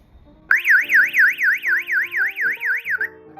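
A smart megaphone-style 110 dB alarm siren sounding after its sensor is separated, a loud rapidly warbling electronic wail of about a dozen even up-and-down cycles over a few seconds, then cutting off.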